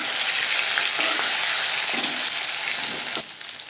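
Pieces of katla fish fry in hot refined oil, a dense, steady hiss of sizzling with scattered pops and crackles, close and loud, easing slightly near the end.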